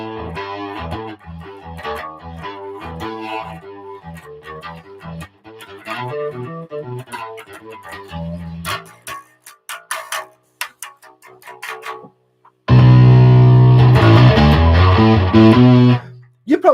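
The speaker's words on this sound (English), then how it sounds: "It just seems to be distortion." Electric guitar played through a Rat distortion pedal feeding both guitar and bass amps, with picked phrases, a brief pause, then a loud, thick sustained distorted chord ringing out for several seconds.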